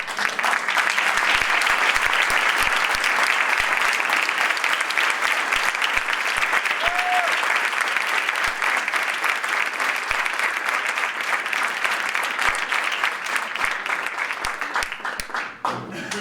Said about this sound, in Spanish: Les pido por favor que le brinden un cálido aplauso